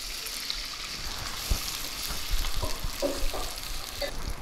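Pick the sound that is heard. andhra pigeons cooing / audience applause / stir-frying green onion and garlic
stir-frying green onion and garlic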